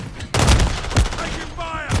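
Short burst of gunfire in a Call of Duty video game: a loud, close volley of rapid shots that starts abruptly after a brief lull, with a faint voice under the shots near the end.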